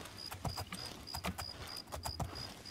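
A horse gallops in the video game The Elder Scrolls IV: Oblivion, giving rhythmic clip-clop hoofbeats in quick repeating groups, fairly close, with no speech.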